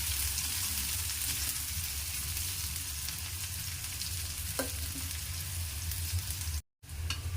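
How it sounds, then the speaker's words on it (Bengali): Onions and spices frying in hot oil in a kitchen pot, a steady bright sizzle with faint stirring scrapes, continuous and close, briefly cut near the end. "এগুলোকে আমরা তেলেতে ভেজে নেব। এক এক করে তেলের মধ্যে আমি এগুলো দিয়ে দিচ্ছি।"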